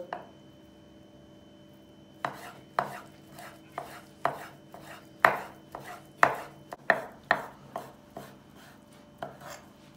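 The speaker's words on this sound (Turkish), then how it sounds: "İşkembelerimizi tavla zarı büyüklüğünde doğrayacağız." Knife chopping tripe into small dice-sized pieces on a board: quiet at first, then a run of sharp, close thumps in an uneven rhythm, with short pauses between strokes.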